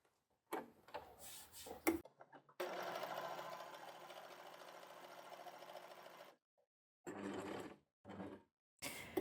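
An overlocker serger stitches fabric in several bursts: a short stuttering run, then a long steady whirring stretch, then quick separate spurts separated by pauses.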